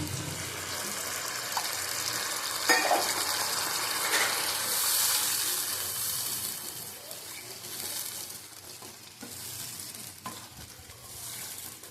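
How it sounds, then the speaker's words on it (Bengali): Water poured into a pan of cooked-down spice mixture for a curd bhetki fish curry, giving a loud steady sizzle and gush with stirring, no voices. "এবার জল দিয়ে দেবো। জল দিলাম পরিমাণ মতো।"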